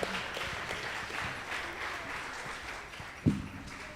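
Audience at a Sunday spiritual gathering applauding, a moderate steady patter of clapping for a few seconds with one louder sharp clap or knock near the end.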